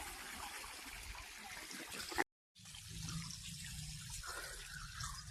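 Steady trickling water leaks from a pipe stopper, running throughout, briefly cutting out for a moment before the flow resumes at the same level.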